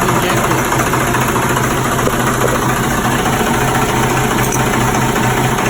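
A 6BT Cummins diesel with low compression idles steadily up close, a loud, continuous low rumble with mechanical clatter and vibration throughout, no voices over it.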